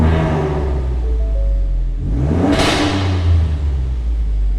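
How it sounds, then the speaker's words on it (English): Ford F-Series pickup engine with its stock air box and panel filter, revving once from idle to a rising roar and settling back, close and loud with a steady rumble throughout. "give you a little bit of a rev and show that there's no real induction noise from it"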